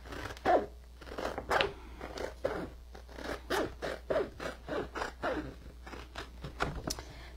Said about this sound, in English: So I'm just going to cut my stencil up